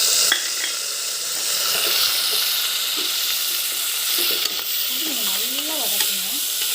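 Tomatoes sautéing in a pan for a mutton intestine (kudal) curry, with a steady close sizzle and scraping stirs throughout; a wavering squeaky tone rises and falls near the end.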